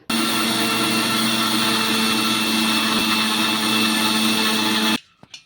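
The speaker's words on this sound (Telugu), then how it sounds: "ఇలా ఒక కప్పు బొంబాయి రవ్వను అయితే తీసేసుకున్న చూడండి నేనైతే ఇప్పుడు మిక్సీ అయితే పట్టేసుకుందాం" A mixer grinder coarsely grinds Bombay rava (semolina), running with a loud, steady motor whine for about five seconds. It then stops abruptly, followed by a short rattle and silence.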